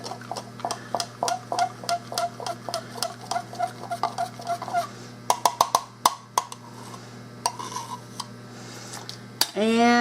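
Light metallic clinks and taps of a utensil against a dish while melted butter is handled, in quick irregular bursts, close by, ending with a brief scrape.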